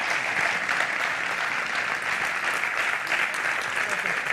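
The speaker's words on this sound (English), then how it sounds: "a big applause for both of them" Loud, steady applause from a conference audience at a stage event, continuous clapping filling the whole stretch without a break.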